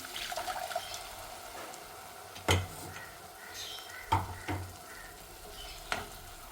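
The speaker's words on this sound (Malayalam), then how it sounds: "ഇനി നമുക്ക് അരപ്പ് ഒഴിച്ചെടുക്കാം" Ground masala paste going into a hot frying pan, a faint sizzle with a few sharp clunks and scrapes against the pan at the start and later on, no voices.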